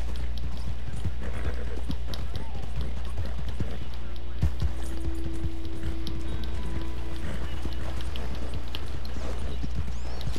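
Horse hooves clop steadily on a trail outdoors while a woman calls out to the horse and others talk throughout; a faint whinny may rise briefly midway.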